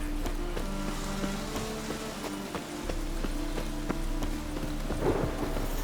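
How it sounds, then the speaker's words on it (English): Magically conjured rain falls steadily in The Witcher 3, with soft patter and low rumbling thunder beneath, a constant wet wash punctuated by faint clicks and drops. "witches have conjured rain"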